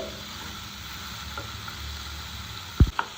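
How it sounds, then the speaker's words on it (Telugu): Ridge gourd pieces roasting in a pan give a steady, low frying sizzle throughout, with a couple of brief louder knocks near the end. "ఇలా కొంచెం కలర్ వచ్చేలాగా బాగా ఈ పచ్చి అవసరం పోయేలాగా రోస్ట్ చేసుకుందామండి"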